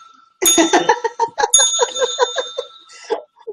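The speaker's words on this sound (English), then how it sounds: "What's the bell ringing in the background there?" A bicycle-style bell rings sharply in short bright bursts, twice, during a live online chat, with a voice speaking alongside it.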